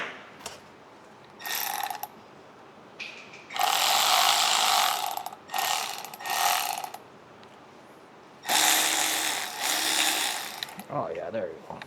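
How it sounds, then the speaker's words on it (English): Ratchet wrench on a 2014 Honda CR-V, dry and in need of grease, clicks in several quick bursts of rapid gritty ratcheting, loud and close, with short pauses between strokes. "Oh no, my ratchet's broken."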